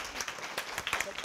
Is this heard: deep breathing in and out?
no